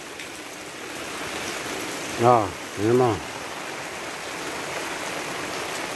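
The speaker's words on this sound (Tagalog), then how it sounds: "Sa problema guys, malakas yung ulan." Heavy rain in Bulacan pouring in a steady, dense hiss throughout, with a person speaking two short phrases briefly over it.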